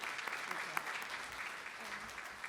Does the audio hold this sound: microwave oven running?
no